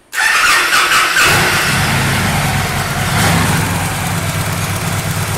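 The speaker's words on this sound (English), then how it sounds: "let's go ahead and do a cold start. See how she sounds with the aftermarket Cobra exhaust." A 2014 Victory Hammer 8-Ball motorcycle with an aftermarket Cobra exhaust fires up from cold and settles into a loud, deep, rumbling idle close by, with a slight swell in revs midway.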